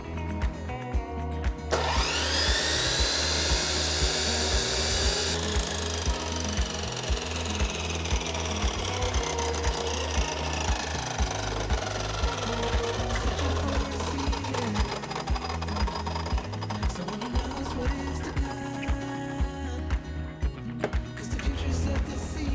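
A miter saw spins up with a rising whine and cuts a 45-degree angle on trim during a box truck build, a loud burst of a few seconds followed by a steady motor drone that continues throughout.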